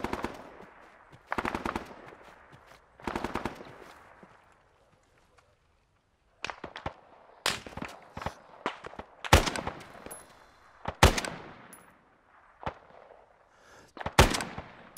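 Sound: machine gun fire in video game ARMA 3 S.O.G. Prairie Fire

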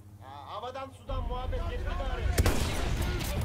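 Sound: gunfire in video game Battlefield 1

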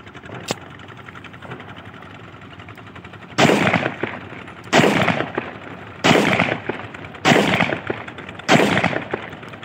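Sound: test firing a 30 bore Russian copy pistol

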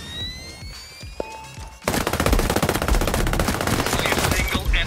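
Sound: gunfire in Ghost Recon Breakpoint video game

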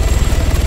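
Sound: helicopter in Altis Life (Arma) video game

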